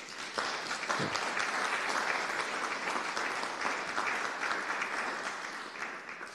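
Audience applause at a medical research symposium welcome session, a dense steady wash of many hands clapping that holds for the whole stretch and eases slightly toward the end, with no talk over it.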